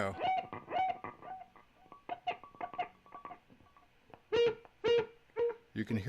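Electric guitar notes through a Rowin delay pedal with the wet/dry amount knob maxed out, each phrase followed by echo repeats that come back as loud as or louder than the original notes, played alone with no talking.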